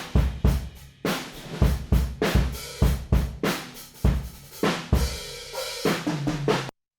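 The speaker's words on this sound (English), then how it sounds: "Just listen to the kick drum on this pair of room mics." Full drum kit played in a groove with heavy kick drum and crashing cymbals, captured by a Blumlein pair of ribbon room mics, giving a roomy, open sound with steady rhythmic hits and no talking, stopping abruptly at the end.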